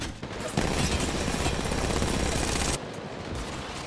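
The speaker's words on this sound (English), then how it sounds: "let me shoot this guy long range" Rapid gunfire from Apex Legends Mobile, fired at long range, rattles in a loud, dense burst that runs steadily for about two seconds before dropping back to a lower din.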